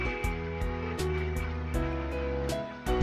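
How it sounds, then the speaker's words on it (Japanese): A car engine in a visual novel starts and settles into a low, steady idle hum, with several rhythmic, loud pulses and a slight rise near the end. "といった具合にエンジンがかかる。"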